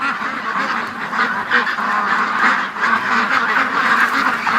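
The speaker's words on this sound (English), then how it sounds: "Come on, duck, into the pen." A flock of farm ducks quacks continuously while being herded into a pen, a busy, overlapping chorus of nasal calls at close range.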